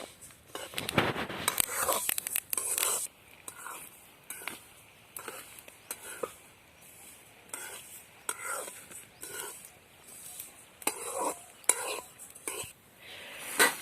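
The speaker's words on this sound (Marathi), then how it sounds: "तर ही हावरी आपल्याला 4 ते 5 मिनिटापर्यंत अशीच भाजून घ्यायची।" Sesame seeds dry-roast in a pan over low heat, giving a soft rustle and scraping as they are stirred in intermittent strokes, faint and close, with quiet speech in between.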